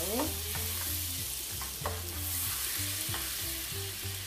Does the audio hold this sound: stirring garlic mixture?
yes